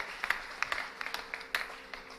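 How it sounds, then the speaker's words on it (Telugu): Scattered claps from a lecture audience at a talk on a Hindu religious text, a few sharp hand claps spaced out irregularly over quiet background, fairly faint and sparse rather than full applause. "గట్టిగా చప్పట్లు కొట్టండి ఒకసారి"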